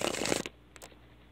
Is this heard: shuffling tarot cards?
yes